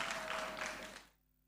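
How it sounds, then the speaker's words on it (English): Applause for graduates at a graduation ceremony, a faint wash of many hands clapping that fades out after about a second. "A round of applause for our graduates."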